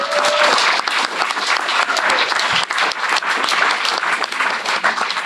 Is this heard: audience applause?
yes